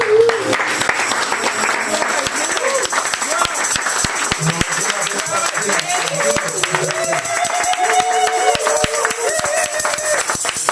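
A church congregation applauds in dense, steady clapping that runs throughout, with voices and singing-like tones mixed in beneath the claps.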